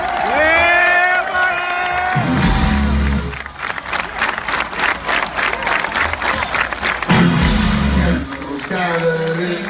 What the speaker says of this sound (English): clap those fucking hands, come on